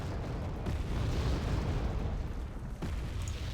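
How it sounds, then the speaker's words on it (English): Bombs dropped by Starfighter jets exploding in the video game Wargame: AirLand Battle, a continuous loud rumbling barrage of blasts with a sharp burst near the end, no talk. "Starfighters are coming in, dropping bombs"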